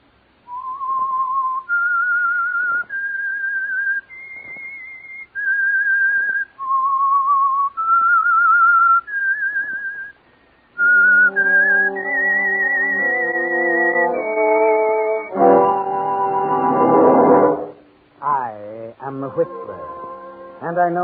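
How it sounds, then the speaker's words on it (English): A whistled melody serves as the signal for a radio program: a clear, close sequence of sustained whistled notes rising and falling, then joined by a fuller orchestral swell and sliding tones toward the end. "That whistle is your signal for the Signal Oil Program"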